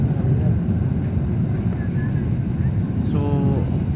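Inside an airliner bouncing up and down in flight, a steady low cabin engine drone fills the space with faint beeps and chimes over it.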